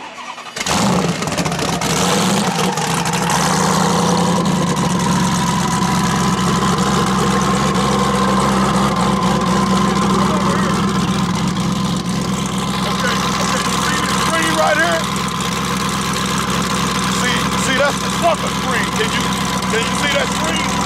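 A twin-turbo Dodge Demon engine cranks and fires up, then settles into a steady, deep idle that runs on loudly and evenly.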